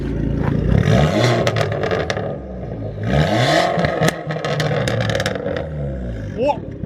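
An Abarth 595 Competizione with an IHI turbo and straight-through exhaust revs loudly nearby in repeated rising and falling bursts, with crackles, while people talk and shout over it.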